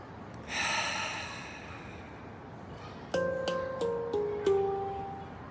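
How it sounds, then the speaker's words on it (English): During a guided morning meditation, a soft, breathy exhale through the mouth drifts out over a couple of seconds, then several gentle chime or bell tones are struck one after another and ring out. "and in some moments exhaling out the mouth"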